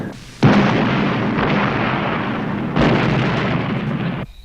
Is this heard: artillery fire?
yes